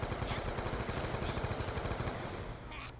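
Sustained rapid gunfire cutting down zombies in Black Ops 2 Zombies, a steady loud stream of shots that trails off at the end.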